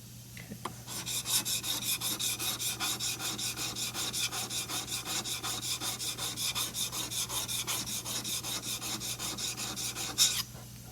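A blade is sharpened by hand for tool sharpening, giving a steady run of close, rhythmic rasping strokes, about four per second, continuing for roughly ten seconds with no talk.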